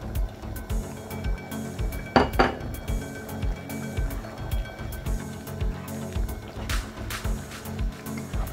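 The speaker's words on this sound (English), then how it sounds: "I'm gonna be adding my peanut in now" Peanuts poured and stirred into a cooking pot for nyankatan, giving bright clinks and rattling metallic knocks. One louder burst of clattering stands out among steady scraping and tapping close by.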